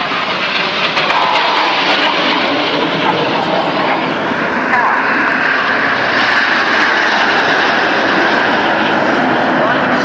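A low-flying Red Arrows display jet trailing smoke at an air show in Portrush roars loudly and steadily throughout, and the sound swells as the jet passes.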